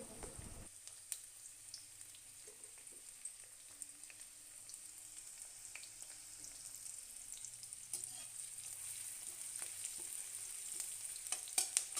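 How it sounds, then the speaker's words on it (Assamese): Onions fry in hot oil for an aloo sandwich filling, a faint, steady sizzle dotted with small crackles and light stirring clicks that grow a little louder toward the end. No speech is heard. "তেলখিনি গৰম কৰি পেলাই পিঁয়াজখিনি অলপ দেৰি ভাজি ল'ম।"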